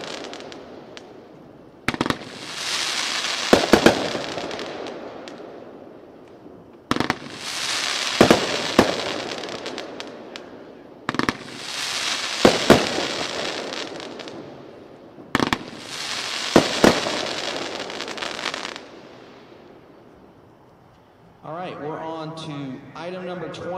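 A Diabolical 25-shot firework cake fires loud bursts in four clustered volleys of sharp pops and crackling breaks, each trailing off into a fizzing hiss, with a short gap of near quiet between volleys and faint voices at the end.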